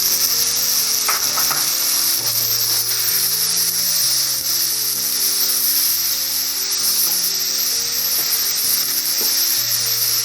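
Soya chunks sizzle steadily in a hot pan, a loud continuous crackling hiss with occasional stirring scrapes throughout, no voices.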